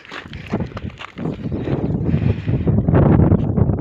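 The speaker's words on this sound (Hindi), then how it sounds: "ऊपर आगे हवा का बहाव तेज़ हो गया।" Strong wind buffets the microphone on a mountain road near a dam, a loud, rough, steady rush that swells toward the end, with no speech.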